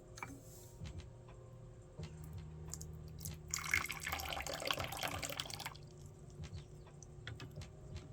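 Hand-rolled jade pillar white tea is poured, a bright liquid splash that rises in the middle and lasts about two seconds, with soft ticks and clinks before and after in a quiet room.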